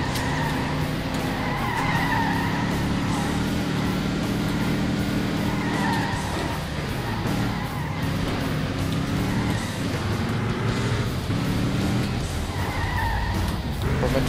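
Racing cars in the video game Alarm für Cobra 11 Nitro roar loudly with repeated tire squeals and skids over a constant engine drone throughout, close and busy with no pauses.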